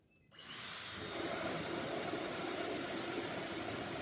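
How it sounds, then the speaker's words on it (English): A hairdryer switches on and blows a steady, loud rush of air that continues evenly to the end. "wait for the heat to blow out of the hairdryer"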